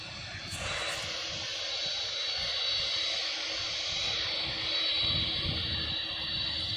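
A Boeing 747 jet airliner roars overhead with a loud, sustained whine and rumble that swells slightly and then holds.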